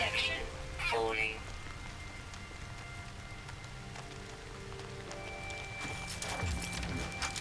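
Rain falling in the game No Man's Sky, a steady soft patter of drops on surfaces that stays faint throughout, with occasional heavier taps and talk heard over it.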